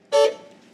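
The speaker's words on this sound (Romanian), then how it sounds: "uitați-vă ce claxon avea mașina timpului" A single short, loud toot comes from the horn of a DMC DeLorean time machine replica, a bright tonal blast that cuts off quickly and leaves a faint ringing tail.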